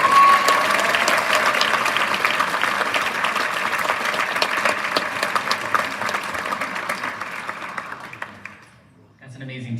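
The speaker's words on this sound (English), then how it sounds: "Can we get one more round of applause?" An audience at a teacher tribute event gives a sustained round of applause, dense clapping from a large crowd that stays loud, then fades out near the end.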